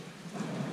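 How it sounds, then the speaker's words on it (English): Rain falls steadily outdoors, a soft continuous patter and hiss, faint and even over a brief moment with no voices. "It's raining now."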